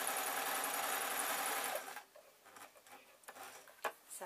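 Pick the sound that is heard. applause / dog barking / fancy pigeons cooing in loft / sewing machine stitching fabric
sewing machine stitching fabric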